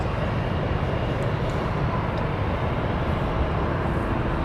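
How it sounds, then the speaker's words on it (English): A jet airliner at Toronto Pearson airport at night gives off a loud, steady broadband engine roar that holds at an even level throughout, with no voices. "Beautiful plane."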